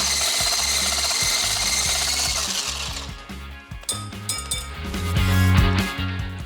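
Electric mixer whisking tiramisu cream in a bowl, a steady loud motor whir with metallic beaters clinking and rattling against the bowl, alone and close, the pitch shifting partway through as the mixing changes.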